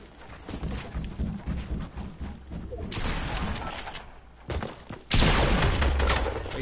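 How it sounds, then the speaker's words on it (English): Explosive rocket launcher blasts in a video game, heavy booming bursts amid continuous gunfire and rumble, growing louder with a big close blast near the end. "he's gonna try to finish me with his rocket"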